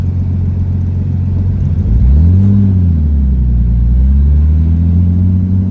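A Nissan Skyline's engine idles with a loud, deep rumble, then revs up and settles in rising and falling swells, close by with no talk.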